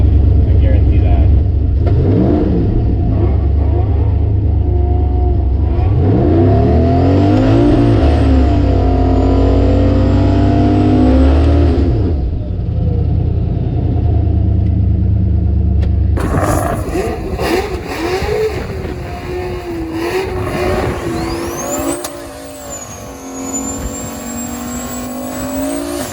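A 6.0 LS turbocharged Fox-body Mustang idles and revs loudly at a drag strip, its rough cammed engine rising and falling through varying pitch. Engine noise shifts partway through, with people talking under it.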